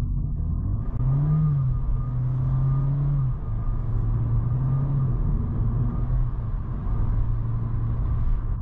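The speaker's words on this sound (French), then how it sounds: "la voiture en ce moment régénère l'énergie quand tu relâches l'accélérateur" A Honda Jazz with CVT automatic transmission drives along while regenerating energy off the accelerator, a steady low engine and road rumble with faint whirring tones, close and continuous.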